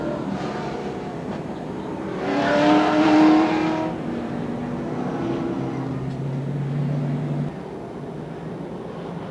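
Race cars circling Anderson Speedway under a caution period during a CRA All Stars Tour short-track race, a steady engine drone with a louder car swelling past near the middle before the sound settles back to a constant roar.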